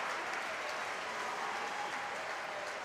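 Steady applause from an Italian crowd at a world championship fencing bout in Milan, a dense even wash of clapping filling the whole moment without letup.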